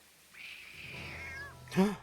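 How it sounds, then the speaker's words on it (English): A cat meows in a video game, one drawn-out meow that bends downward, followed by a short louder chirping mew at the end. "It's a cat."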